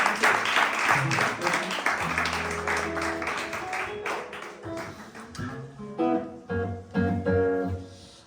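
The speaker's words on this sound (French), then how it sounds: "Merci beaucoup pour votre écoute et vos applaudissements." An audience applauds after a live music piece at a small concert venue in Bossière, a close, continuous patter of clapping that thins into scattered claps as tonal instrument notes sound toward the end.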